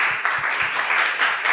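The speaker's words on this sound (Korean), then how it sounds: "우리 김요한 박사님을 우리가 크게 한번 격려하며 감사하며 한 번 더 박수해 주시면 좋겠습니다" A lecture audience applauding steadily, a dense wash of clapping that holds at an even level throughout with no voices over it.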